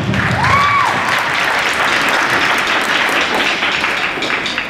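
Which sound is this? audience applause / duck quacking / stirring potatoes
audience applause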